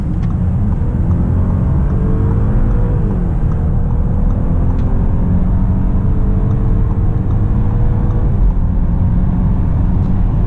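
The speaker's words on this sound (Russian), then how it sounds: "Проверяем V6" The V6 engine of an Audi A8L runs and accelerates on the road, a loud, continuous droning rumble with rising tones as revs climb, heard from inside the car.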